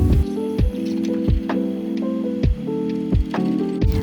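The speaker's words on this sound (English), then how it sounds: "I did some simple stirring with a chopstick." Soft, wet squishing and swirling of thick cream being stirred with a chopstick, with repeated sharp taps against a cup rim at a steady rhythm.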